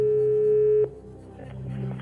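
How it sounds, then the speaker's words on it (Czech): A phone line tone sounds as a game-show contestant places a call to a friend on Chcete být milionářem, one loud sustained electronic tone cutting off before a softer murmur of background sound and faint voices. "Zavoláme tedy panu Otakarovi."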